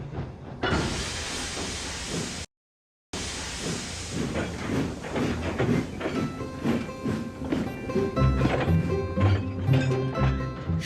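A steam engine pulls a slow goods train, hissing steam over a rumbling, clanking run. The sound cuts out briefly, then returns with rhythmic chuffing and wagon noise building louder toward the end.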